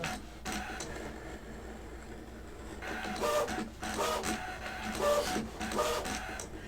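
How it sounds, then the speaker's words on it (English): Brother ScanNCut cutting machine running a rotary cutter, close and moderately loud, its motor whirring in repeated printer-like passes and pauses as the head moves back and forth, with no talking. "Now with the rotary cutter, it's constantly going back and testing."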